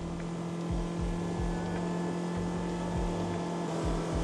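A Rooster 600 motorboat with a 150 hp outboard engine runs steadily on open water, a continuous droning hum with rhythmic thumps as the hull slaps over small waves, close and loud with no talk.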